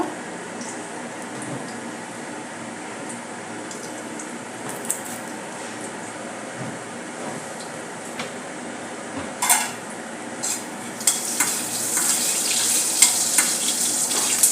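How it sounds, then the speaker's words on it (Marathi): Cumin seeds and asafoetida fry in a pan with a steady low sizzle, while occasional utensil clinks and scrapes grow busier toward the end. "जिरे चांगले फुलून घेऊया त्यात घालूया हिंग"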